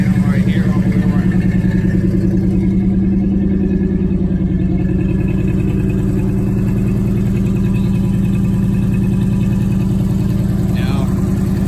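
A 1970s-era Oldsmobile Cutlass V8 with an aftermarket Magnaflow exhaust idles loudly and steadily with a deep, throbbing exhaust pulse, close up and unbroken, with a slight exhaust leak at the front.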